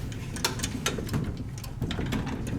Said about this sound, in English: it's got that classic Westinghouse side-mounted interlock, which is why you hear the thud right before the doors open. That's the interlock disengaging.